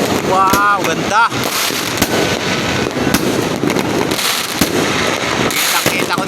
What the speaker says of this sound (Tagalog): Kita ko dito mga fireworks.